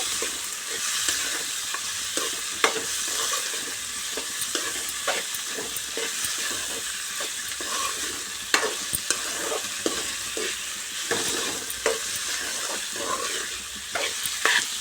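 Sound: stirring and frying tempering with onion pieces

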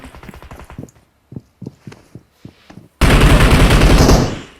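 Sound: gunfire in a video game

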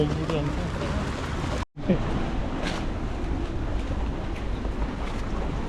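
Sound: waves crashing, Venice

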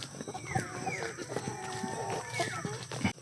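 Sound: rooster clucking on a farm

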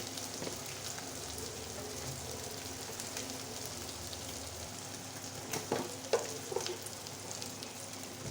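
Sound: small prawns frying in a pan

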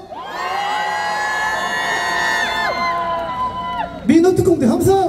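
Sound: festival crowd cheering and shouting

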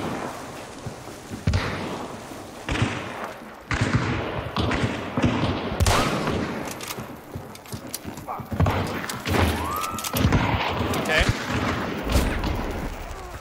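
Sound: gunshots in Hunt Showdown video game

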